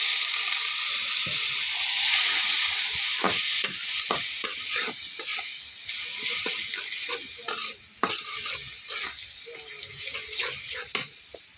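A spiced mixture for Eid meat fry being sautéed in a pan gives a loud, hissing sizzle. Repeated scraping stirs and clacks of the spoon on the pan grow more frequent in the second half.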